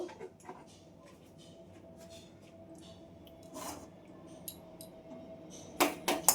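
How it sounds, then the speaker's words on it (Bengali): A kitchen gas stove burner is lit under a wok, giving a few quick, sharp igniter clicks near the end after a stretch of quiet room noise and faint handling sounds. "গ্যাসটা জ্বালিয়ে দিলাম।"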